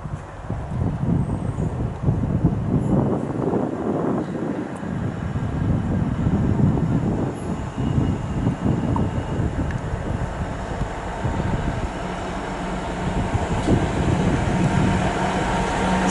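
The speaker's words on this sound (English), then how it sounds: "passing through now, we've got a 66 from Swindon to Cardiff Canton Sidings" A heavy Class 66 freight train hauling scrap wagons rumbles past at Patchway on the South Wales Main Line in the evening, a dense low roar with clattering wagons and steady noise, fairly close and loud, with no talking.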